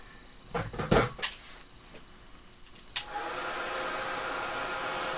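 A heat gun drying blended Distress ink. Some clattering handling knocks come first, then the gun switches on with a sharp click and blows a steady, close, even whoosh until the end.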